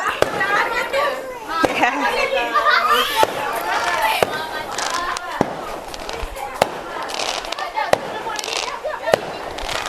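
Fireworks pop and crack repeatedly at irregular intervals during a festive evening gathering, sharp bursts cutting through lively chatter and children's voices nearby.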